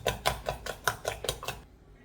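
Whey protein whisked in a bowl, about eight sharp, even clinks of the whisk against the bowl in steady rhythm, close and alone, then stopping abruptly.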